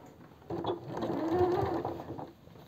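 A sewing machine stitches the shoulder seams of a woman's vest in a fast, continuous mechanical whir that swells in the middle, close and fairly quiet, with no talk.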